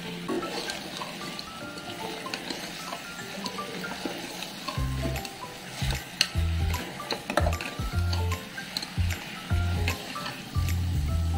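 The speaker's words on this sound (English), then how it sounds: "Mix well." Chicken curry being stirred with turmeric powder in a pan, Andhra style: a steady sizzle of frying carries under irregular scraping and clunking strokes of a spoon against the pan, growing busier in the second half.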